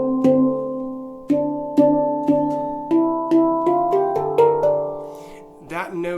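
A handpan struck repeatedly by hand, the later notes hit harder so they ring with a wavering warble. Clear, close, sustained metallic tones decay between strikes, with no talk.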